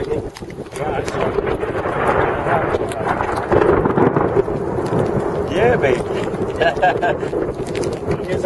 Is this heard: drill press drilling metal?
no